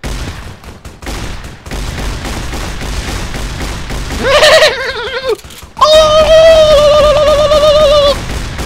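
Shotgun gunfire in Fallout New Vegas, with a few sharp blasts amid a busy game mix with tonal effects, loud and close.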